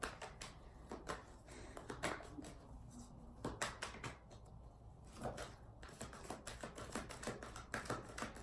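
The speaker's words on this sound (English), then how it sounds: "I always like to shift different ways that I'm shuffling, because sometimes the cards get stuck together." Tarot cards being shuffled by hand: irregular soft clicks and riffling snaps come close but quietly, some in quick clusters and others spaced apart, over a faint steady background hum.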